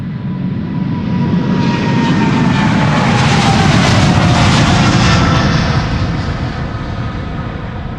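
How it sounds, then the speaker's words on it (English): A two-year-old Boeing 777 freighter in Sky Cargo livery passes at Schiphol Airport, its engines a steady, loud, broadband roar that swells toward the middle and fades slightly at the end, with no voices. "777 freighter, 2 years old, first flight April 2022. Sky Cargo, it says so on the tin."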